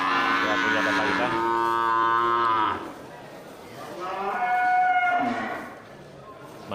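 Male Aceh cattle at a livestock market in Geurugok give two loud, drawn-out moos, the first long and steady, the second rising then fading, with quieter market noise between them.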